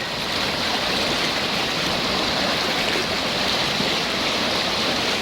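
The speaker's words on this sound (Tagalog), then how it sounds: "Pero sulog ang tubig." Rushing water roars continuously, a strong current flowing loudly and steadily close at hand with no other sounds.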